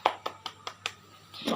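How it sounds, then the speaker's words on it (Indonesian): A few people in a classroom clap: five separate, evenly spaced hand claps, then a brief burst of mixed clapping and noise at the end. It is fairly faint, with a steady low hum underneath. "Tepuk tangan untuk Nisa."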